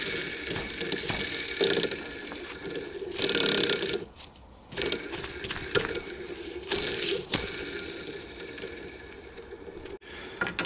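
A box spanner taps a crankshaft bearing down into place on a Honda C90E engine, producing irregular, close metallic knocks and clicks with short pauses between strikes, with no speech.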